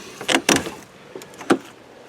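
A Range Rover donor car door opens with a few short mechanical clunks and clicks close by, a pair of quick knocks followed by a single sharper latch sound, with no talking.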